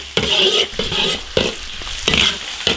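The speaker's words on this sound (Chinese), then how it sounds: "开始炒调料，生姜、大蒜、" Ginger, garlic, Sichuan pepper and chili stir-fried in an iron wok after small fish are fried, loud close sizzling broken by regular scraping strokes of a spatula, no talk.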